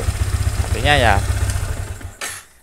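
Standard motorcycle engine during fuel tuning, running with a low, steady throb beneath someone talking nearby, ending with a brief sharp noise.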